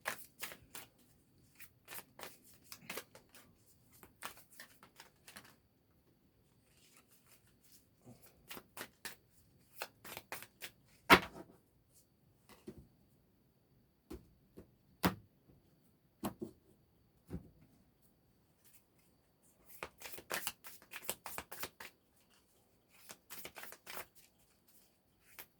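Tarot cards being shuffled by hand, repeated soft riffling and slapping bursts in irregular clusters, close and quiet with pauses in between.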